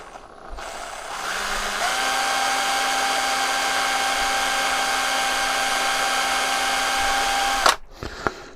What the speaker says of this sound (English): Just to drill a hole in there